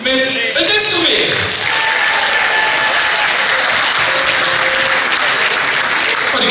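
Audience at a carnival song contest prize announcement applauds loudly and continuously, with crowd murmur and a few voices mixed into the steady clapping.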